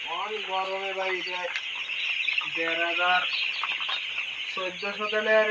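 Several broiler chickens cluck and squawk in bursts, close by, over a constant high-pitched hiss.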